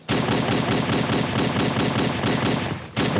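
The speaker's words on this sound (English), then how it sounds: "At which point, I blunderbuss them." Rapid, steady volleys of blunderbuss fire tear at enemies in a cursed Halo Legendary game, a loud continuous burst of shots that stops briefly near the end before firing resumes.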